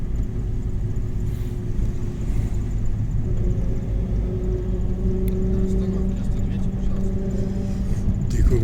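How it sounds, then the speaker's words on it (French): A truck drives along in Transnistria, its engine giving a steady, loud, low rumble that holds without pause from start to finish. "Tiens, le camion de Martin."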